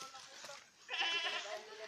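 Goats bleat near a forest trail on the way to a waterfall, with a burst of higher, wavering calls in the second half over faint background noise and some talk.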